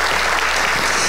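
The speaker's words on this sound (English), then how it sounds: "Can somebody give God a hand clap of praise right there?" A congregation at a Sunday night church service gives a loud, full hand clap of praise, a close, dense burst of clapping that fills a second without voices.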